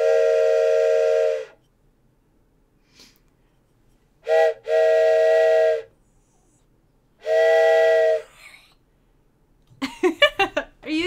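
A train whistle sounds three long, loud, steady blasts separated by silent gaps, followed by a quick burst of short vocal sounds at the end.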